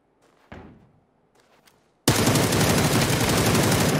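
Sustained automatic gunfire with heavy recoil in the PUBG video game bursts in loud and dense after a near-silent stretch with a few faint knocks, then hammers on without pause to the end.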